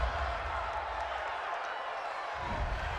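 A large stadium crowd at an NFL game between the Tampa Bay Buccaneers and New Orleans Saints roars in disapproval of a penalty call, a loud sustained wash of voices with a broadcast commentator's voice over it.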